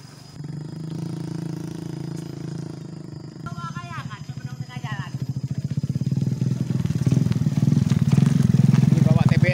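A motorcycle engine putters close by and grows louder as it rides past on a rural road near a palm plantation, with a steady pulsing throb under bursts of nearby speech.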